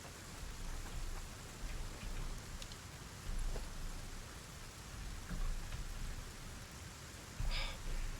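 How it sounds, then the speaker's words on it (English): Rain falling in the Satisfactory game, a continuous dense hiss of drops with occasional louder patters and faint low rumbles, steady throughout. "I love the sound of rain."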